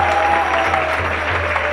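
Temple audience applauding student performers, a steady wash of clapping from a crowd, close and even for a short stretch.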